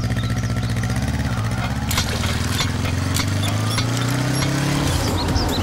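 A motorcycle engine droning steadily and close by throughout, its pitch rising and falling slightly as the bike rides past, with a dense layer of background noise over it.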